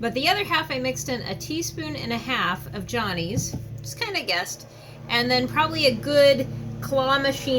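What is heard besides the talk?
No everyday noises stand out.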